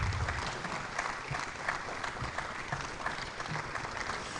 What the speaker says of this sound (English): So please keep the applause coming.